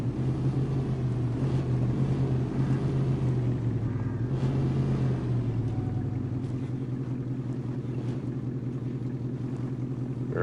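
A 1970s Ford Dentside pickup's engine drones steadily while driving in the SnowRunner video game, a continuous low rumble with slight pitch shifts, loud and unbroken.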